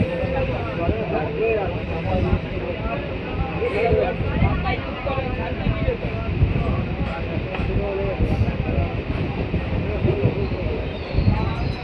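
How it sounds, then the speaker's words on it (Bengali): A crowded Kolkata local train on the Budge Budge to Naihati line pulls into Belgharia station with a dense, continuous rumble and rattle, and passengers talk loudly throughout. "আমাদের ট্রেন এসে পৌঁছালো বেলঘড়িয়া"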